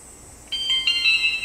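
Yi Mirror dash cam powering off, a short electronic beep-like chime of high tones that starts abruptly and rings briefly over faint background noise.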